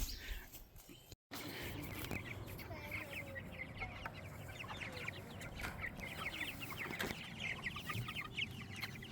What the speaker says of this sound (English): So got the chickens moved out to the pasture here.